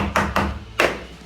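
A mallet strikes a timber stud three times, knocking it into position in a stud partition wall frame: short, sharp wooden knocks, two close together and then a third after a pause.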